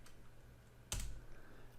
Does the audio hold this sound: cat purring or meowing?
no